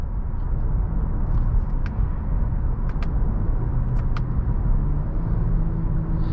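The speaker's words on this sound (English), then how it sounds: "We're gonna try out the paddle shifters. I'll put it in sport mode." A 2018 Acura TLX drives in sport mode with paddle shifting, heard from inside the cabin as a steady low road and engine rumble with a few faint clicks over it.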